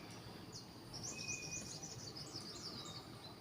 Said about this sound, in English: Sounds like a yellow bird.